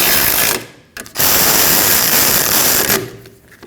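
Close mechanical ratcheting from a ratchet tightening two 12mm bolts on a rear wheel bearing assembly of a 2003-2008 Subaru Forester, loud continuous clicking broken by a brief pause.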